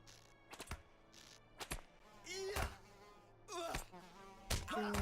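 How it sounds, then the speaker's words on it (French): Mosquitoes buzzing in a pixelated, Minecraft-like video game, with whining insect drones rising and fading between sharp clicky thunks, quiet and close. "c'est pas des mouches, c'est plus des moustiques quand même là"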